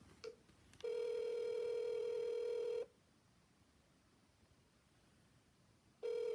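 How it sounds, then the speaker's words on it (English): A telephone rings with one long electronic tone lasting about two seconds, then silence, and a second ring starts at the very end; the tone is loud and close, with no talking. "Answer the phone"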